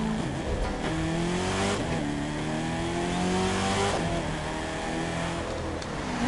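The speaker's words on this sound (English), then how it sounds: "how can you not love the sound of a good muscle car?" A Chevrolet Camaro ZL1 muscle car in the racing game The Crew 2 revs loudly and steadily, its engine note climbing and dropping through several pulls close up.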